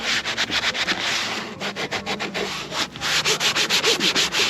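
Cloth rubbing over a Lamborghini's leather seat during interior cleaning, a rhythmic close swishing in quick back-and-forth strokes, steady and fairly loud with brief pauses, no talking.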